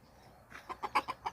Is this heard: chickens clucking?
yes